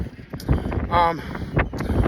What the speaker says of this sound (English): it's mad windy out